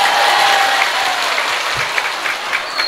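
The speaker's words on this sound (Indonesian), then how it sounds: "Tepuk tangan untuk regu B." At an Indonesian evening religious gathering, the crowd claps loudly for one group of attendees, a thick, close burst of many hands applauding steadily for the full few seconds.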